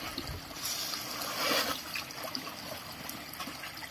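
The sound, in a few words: rice seeds being put into water to soak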